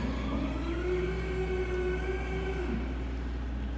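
Electric scissor lift motor raising a slab scissor lift platform, a steady whirring hum that holds an even pitch for a few seconds before dropping off.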